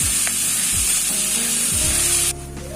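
Boiled, shredded chicken being stirred as it fries in a pan, with a loud continuous sizzle and hiss plus a few low scraping strokes, ending in a softer sizzle.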